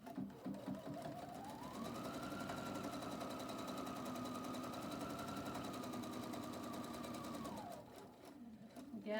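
A sewing machine runs in one long continuous burst while stitching a pocket on a Pendleton wool '49er shirt, its motor whirring steadily up close before winding down and stopping.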